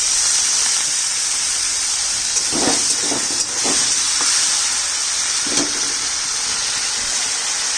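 A little water added to a hot frying pan of cooking spices gives a loud, steady sizzle and hiss, with a few soft stirring knocks partway through.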